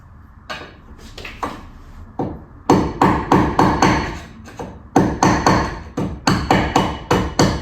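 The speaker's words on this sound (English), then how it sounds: "I've got to chisel out the old one and put in a new M6 captive rib nut" Hammer blows driving a chisel to cut out an old M6 captive rivet nut in a campervan pop-top roof, sharp metallic strikes in quick runs of several hits with brief pauses, close and loud, no talking.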